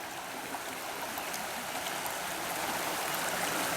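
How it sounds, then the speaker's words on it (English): Frog Creek flowing at night, a steady rushing stream of water heard close and even, a continuous wash with no voices over it. "You hear that water? Yeah, this is where Frog Creek is."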